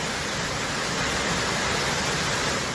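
Twister Falls on Eagle Creek near Cascade Locks pours in a steady, dense rushing roar, loud and close, with no voices over it.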